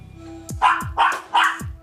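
Three sharp dog barks in quick succession, close and loud, with a steady faint tone underneath.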